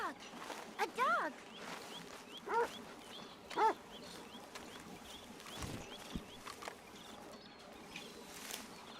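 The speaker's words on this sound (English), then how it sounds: "Arthur, a dog." A dog in the video game Red Dead Redemption 2 gives several short, whining yelps and barks, spaced a second or so apart over steady game ambience, while a person talks intermittently.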